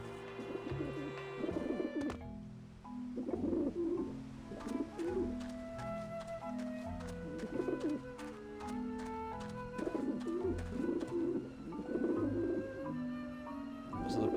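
Pigeons in the video game Grim Fandango coo repeatedly in low, throaty phrases over soft background music.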